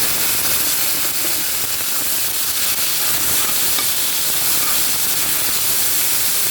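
Marinated raw beef pieces fry in hot oil for fried tawa boti, giving a steady, dense sizzle and hiss that stays loud and even from start to finish, with no voices.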